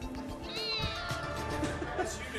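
A cat hiding inside a vent in a house under renovation gives one drawn-out meow, moderately close, with clattering and muffled movement around it.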